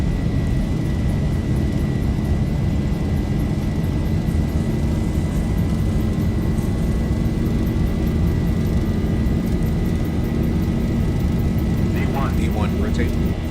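A Boeing 737-800 in X-Plane 11 roars steadily at takeoff power down the runway, a loud, constant engine rush with a whining tone. Brief voices are heard near the end.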